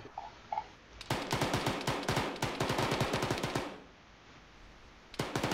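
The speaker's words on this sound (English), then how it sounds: "Oh, more shooting." Video game gunfire during a bandit town raid in AMRA 3 Factions: rapid automatic bursts of close, loud shots that run for a few seconds, stop, then resume briefly at the end.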